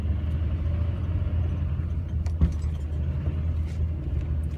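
A Chevy one-ton truck rolls through a mud hole beside a pond, a steady low engine rumble throughout with a brief thump partway through, no talking.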